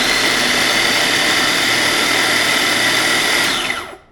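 A food processor whirs loudly for about four seconds as it chops cabbage into tiny pieces for copycat Chick-fil-A coleslaw, a steady close roar that winds down abruptly at the end, with no talking.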